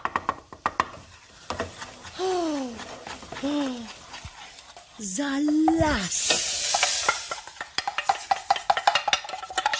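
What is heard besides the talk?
food frying and being stirred in a pan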